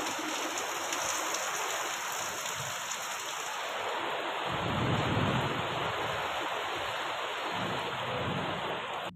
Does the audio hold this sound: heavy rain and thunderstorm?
yes